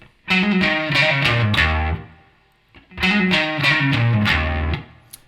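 Distorted electric guitar plays a song's transition riff, with pull-offs into an open low string, twice in two loud, close phrases separated by a short pause.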